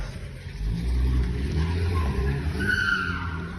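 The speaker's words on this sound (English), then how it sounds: "The vehicle then reversed and left the scene of the accident." A car reverses and pulls away from an accident scene with tires skidding. It sounds as one continuous rough screech and engine rush lasting a few seconds, with no talking.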